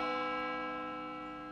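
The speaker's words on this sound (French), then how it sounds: "Oh, les cloches de la ville." A town church bell rings with a rich, sustained tone that slowly fades, heard alone without any talk.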